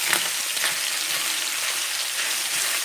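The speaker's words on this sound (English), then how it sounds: "I guess I can stir my meat." Italian sausage meat sizzling and frying in a pan for a casserole, a steady close hiss with occasional scraping stir sounds, no talk.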